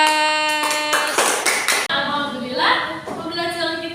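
Students in a classroom clap hands together for a classmate, a burst of sharp claps mixed with chatter and talking over them, followed by more voices as the clapping fades.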